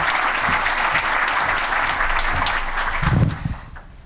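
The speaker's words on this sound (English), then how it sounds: "So let's have a warm round of applause for Grace Gallucci." Warm audience applause welcoming Grace Gallucci at a 2012 NOACA summit, a loud, even roar of clapping that swells briefly near the end and then fades away.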